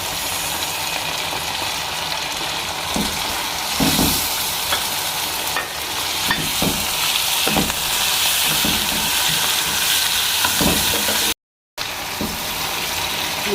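Chopped tomatoes fry in a hot pan for a mixed vegetable sabzi, giving a steady loud sizzle with occasional stirring scrapes and taps, close up and without talk.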